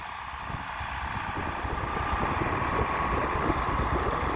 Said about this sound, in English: got a International 966 and a 2-bottom plow, it looks like.